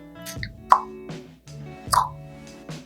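A Jaclyn Hill x Morphe JH42 makeup brush dabs into a Versali Jelly Bean jelly highlighter, giving two soft, wet plops about a second apart, close and fairly quiet, with small squishy handling noises between them.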